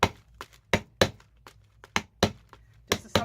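A paint bottle is struck repeatedly to crack its seal, giving about a dozen close, sharp knocks in an irregular rhythm with quiet gaps between.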